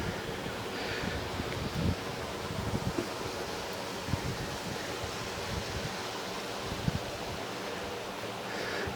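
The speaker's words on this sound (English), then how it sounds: "Yeah, the brook's full." A full brook flowing outdoors on a countryside walk, a constant close rushing wash of water with faint low bumps and gusts of wind over it.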